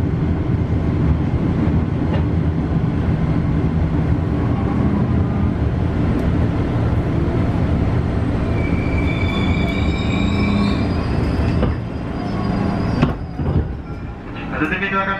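A KRL commuter train runs on the Jogja-Solo line, a steady loud rumble of wheels and carriage noise with a few squeals and clunks near the end, with talk heard over it.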